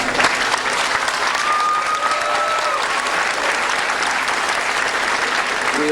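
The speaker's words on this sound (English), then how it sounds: "We applaud you both." Audience at a high school awards ceremony applauding honorees, steady dense clapping from a large crowd sustained throughout, loud and continuous.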